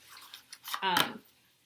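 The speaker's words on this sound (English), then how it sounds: "so if you can shuffle them like this" A deck of playing cards gets a single quick riffle shuffle, a brief fluttering burst of card edges snapping together at close range, with quiet handling before and after.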